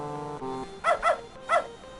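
Three quick, high dog yelps from a point-and-click adventure game, heard after a brief tonal sound effect, as the dog is launched into a pool.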